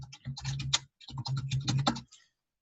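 Bursts of rapid clicking on a computer keyboard, close and crisp, in two runs separated by a short pause before stopping.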